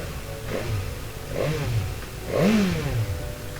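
A BMW S1000 sport motorcycle accelerates on a road ride, with three rising engine pulls, each swelling and fading, the last the loudest and longest, over steady wind and road noise.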